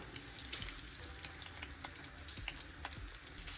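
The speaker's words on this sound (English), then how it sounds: "I'm gonna flip my patties over, y'all" Salmon patties frying in a pan for Southern-style salmon patties, a quiet steady sizzle with soft scraping and spatula taps as the patties are flipped, close and low in level.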